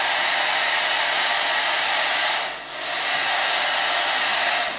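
A household hair dryer blows at full power, a loud steady rushing whoosh with a brief dip in the middle before it surges back.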